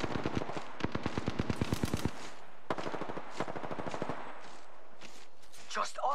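Rapid automatic gunfire in the Apex Legends battle royale, a fast burst of evenly spaced shots followed by a second sustained burst, with scattered later shots and a voice talking over the firing.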